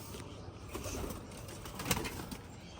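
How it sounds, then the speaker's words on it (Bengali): A pigeon kept in a home loft coos in a fairly quiet, close space, with soft repeated coos and a brief rustle of wings over faint background noise. "একটা কবুতর প্রচণ্ড ডাকে প্রচণ্ড অ্যাগ্রেসিভ একটা কবুতর"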